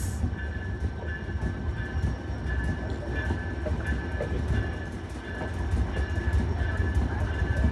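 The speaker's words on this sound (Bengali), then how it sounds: "ঢাকা কমলাপুর রেলওয়ে স্টেশনে প্রবেশ করলো বেনাপোল থেকে ছেড়ে আসা ঢাকা অভিমুখী আটশো সাতাইশ আপ রুকুশি বাংলা এক্সপ্রেস" The Rupashi Bangla Express from Benapole rumbles steadily into Dhaka Kamalapur railway station, a deep continuous roar of rolling wheels with occasional clacks and a thin high whine above.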